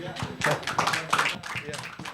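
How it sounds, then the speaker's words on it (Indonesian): A church congregation at a Sunday service in Semarang claps in a brief burst of hand applause, several quick overlapping rounds of moderate loudness with a little voice mixed in. "Saudara berikan tepuk tangan saudara sekali lagi."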